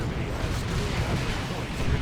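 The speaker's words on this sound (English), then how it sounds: "Plasma cannon trying to get shots in." A plasma cannon fires in a Dawn of War 2 real-time strategy battle, its heavy blasts merging into a dense, continuous roar of explosions and gunfire.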